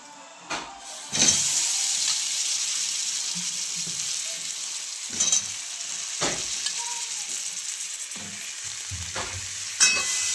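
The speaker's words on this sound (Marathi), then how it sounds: "आता वांगे टाकून घेते" Eggplant frying in a hot tempering of oil and spices, a continuous close sizzle broken by several sharp stirring clanks and scrapes against the pan.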